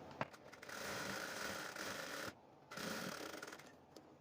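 A sewing machine stitches a blouse in a close, quiet, continuous mechanical whir, broken by a short pause partway through before running again.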